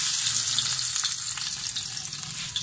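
Garlic sizzles in a hot pan with a loud, steady, bright frying hiss throughout, and no voices.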